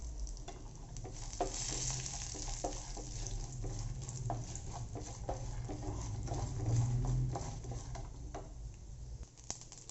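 Curry leaves sauté in a pan of oil for lemon rice, making a close, steady crackling sizzle with soft stirring scrapes throughout and no voices.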